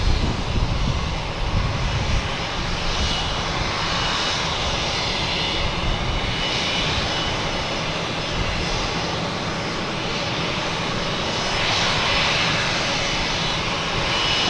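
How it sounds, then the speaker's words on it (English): Steady engine roar of a Cape Air plane arriving at Boston Logan Airport, a continuous broad drone that holds level for the whole stretch, fairly loud with no talk. "Cape Air coming in first."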